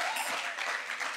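A church congregation applauding during a worship service, a short, fairly faint burst of overlapping clapping at a steady level.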